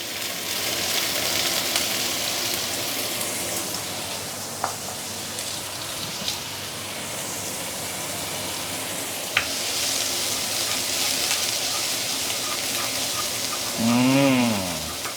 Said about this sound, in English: Let's saute the ginger and garlic.